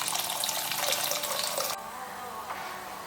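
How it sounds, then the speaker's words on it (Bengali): Water from a tap runs steadily into a mixer jar that held ground spice paste, a close splashing stream that drops slightly in intensity partway through, for a Bengali pabda fish curry. "আরও খানিকটা জল দিচ্ছি।"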